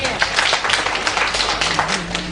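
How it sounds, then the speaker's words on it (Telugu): A church congregation bursts into lively, sustained clapping during a Telugu Christian sermon, with a steady patter of many hands and voices mixed underneath. "చప్పట్లు."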